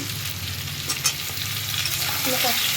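Tomatoes and sugar sautéing in a pan for a Bengali muri ghonto, a steady close sizzle with soft scraping stirs and a couple of sharper clinks against the pan.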